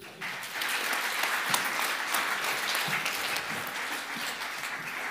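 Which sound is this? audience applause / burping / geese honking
audience applause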